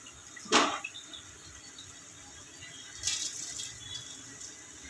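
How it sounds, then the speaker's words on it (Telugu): Rice being washed in water in a home kitchen before making beetroot rice, two brief splashing swishes a few seconds apart with quiet pauses between, close up. "నేను ఫస్ట్ ఇలా కడిగేసి చేసుకున్నాను."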